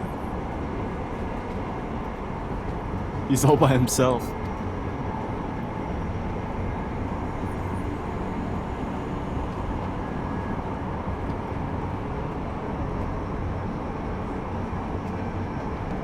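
Constant low rumble of a subway train in motion during a Deus Ex: Mankind Divided cutscene, steady and unbroken, with someone briefly speaking over it early on.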